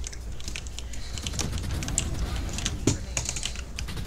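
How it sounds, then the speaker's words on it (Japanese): Rapid computer keyboard typing, likely key-mashing during competitive gameplay, runs steadily through the whole stretch as a dense clatter of clicks with a sharper hit near the end. "めちゃくちゃ入ってますねキーボードの音が"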